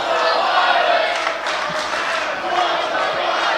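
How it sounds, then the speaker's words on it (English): A dense, steady roar of a wrestling crowd cheering fills the arena, loud and sustained without clear breaks. "The crowd is loving this."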